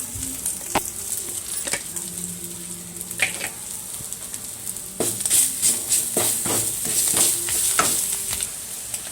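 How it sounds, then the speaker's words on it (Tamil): Ginger garlic paste fries in hot oil while chicken gravy is being cooked, a continuous crackling sizzle with bright bursts and occasional stirring clicks and scrapes, close and fairly loud, with no talking. "இஞ்சி பூண்டு சாந்து 1 ஸ்பூன் போடுறோம்."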